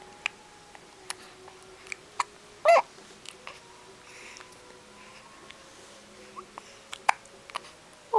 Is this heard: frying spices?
no